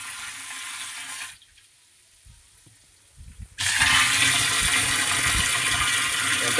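Water from an electric motor pump gushes loudly into a household tank, with a quieter stretch in the middle before the strong rushing flow returns steadily.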